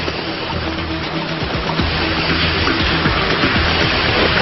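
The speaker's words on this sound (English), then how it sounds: "I can hear the sound of a small waterfall ahead." Small waterfall on a mountain stream in the Norwegian mountains, a dense, close rushing splash of water that stays loud and constant throughout.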